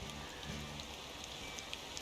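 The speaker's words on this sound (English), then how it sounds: "There's the rain again." Rain falls in the driving game Motor Town, a steady soft patter with a faint low engine hum beneath it and occasional brighter droplet ticks, no voices.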